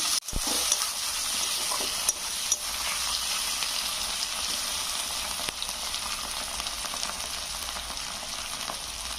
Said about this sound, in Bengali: এখানে আমি টমেটো কুচি দেবো টমেটো কুচি আর কাঁচা লঙ্কা দেবো এটাও ভালো করে আমি কষে নেবো